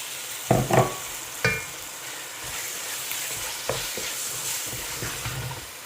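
Curry with coconut paste and sour brinjal is mixed in a frying pan: a low continuous sizzle with a few sharp utensil knocks early on and softer scraping afterward.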